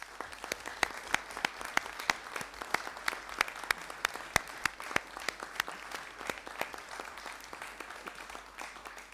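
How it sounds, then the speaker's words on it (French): Sparse applause from a municipal council meeting in a French town hall, with individual hand claps clearly separated and spread across the room, steady and moderately close, with no voices. "Je vous demande de l'applaudir très fort."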